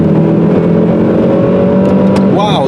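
A turbocharged car pulls away on an icy road with a steady engine drone and tonal hum, sounding close and loud. Speech-like sounds sit underneath, and a brief whistling warble comes near the end.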